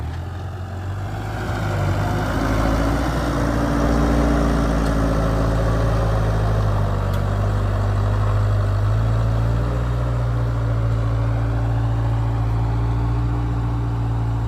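A Massey Ferguson MF440 tractor engine runs steadily and loudly close by while levelling topsoil, a deep continuous rumble with a slight rise in revs early on, no voices.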